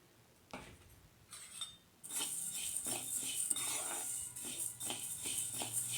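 A spoon scrapes and clinks in a pan while dry ginger and coriander coffee powder is mixed off the heat, giving soft, continuous metallic scraping and rustling close by.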